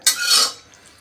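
A metal kadhai, a wok-like pan, is set down on the stove with a single bright metallic clang that rings for a moment and fades quickly.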